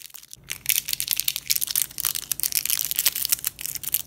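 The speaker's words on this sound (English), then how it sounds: "crinkle some plastic for the little spark before the portal opens." Plastic being crinkled up close, a dense run of sharp crackles and snaps that continues steadily throughout, recorded as a spark element for a portal sound effect.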